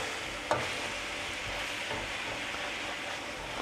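Onions and meat stir-frying for ramen give a steady close sizzle with a scrape of stirring near the start and soft crackles through it, and no one speaks.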